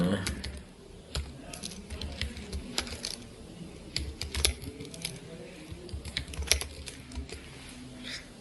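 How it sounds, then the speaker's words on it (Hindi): Username and password being typed on a computer keyboard at a login page, a run of quick, irregular close key clicks with a few sharper taps over a low room hum. "मैंने अपना यूज़र नेम और पासवर्ड एंटर किया"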